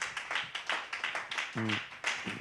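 Church congregation clapping, quick irregular claps from many hands, fairly close, with a short voiced sound partway through.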